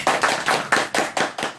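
A Bible study group claps in a quick, steady rhythm to open the class, with about eight sharp, evenly spaced bursts. The claps are close and fairly loud, and there is no clear cheering and no talk.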